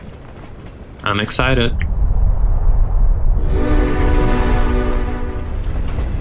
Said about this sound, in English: Is that a flying train?